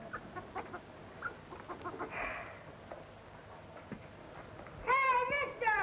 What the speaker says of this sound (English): No, that's our chicken.